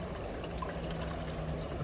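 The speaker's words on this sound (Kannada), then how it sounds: "ಬಟ್ ನೋಡಿ ನೀರು ಹೆಂಗೆ ಜಿನುಗ್ತಾ ಇದೆ" Water trickles down a water feature table at a hotel in Lusail, a faint, steady liquid dribble and soft splashing that continues evenly without pause or voices.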